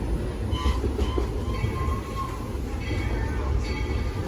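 The Walt Disney World Railroad train approaches a station, a steady rumble with a rattling rolling hum, faint screeching tones rising and fading above it, continuous and fairly close throughout.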